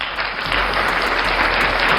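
A crowd applauds loudly and continuously at a talk-show-style discussion, dense clapping filling the whole two seconds with no pause.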